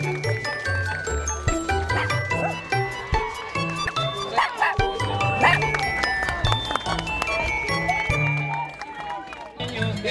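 Dogs bark and yip repeatedly amid a busy outdoor crowd at a doggy art walk during an art festival along the Rogue, with tinkling jingles and people talking throughout.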